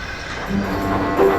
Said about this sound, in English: The engines backed excitedly onto the train.